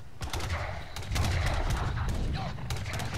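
Gunfire from a battle in Age of Empires 3: The Asian Dynasties: a scattered volley of sharp shots, irregular and overlapping, layered over constant battlefield noise.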